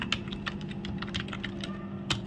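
Fingers type steadily on a computer keyboard, a close rapid run of distinct key clicks with a louder tap near the end and no voices.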